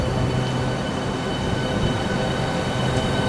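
A Southeastern high-speed service to Dover Priory pulls away from Stratford International in Train Sim World 3, a steady, loud rumble of rolling stock and traction noise running throughout with no talk.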